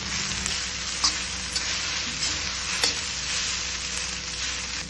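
Hakka noodles stir-fried in a hot pan, a steady, loud sizzle running throughout with occasional clinks and scrapes of stirring, close by and without talk.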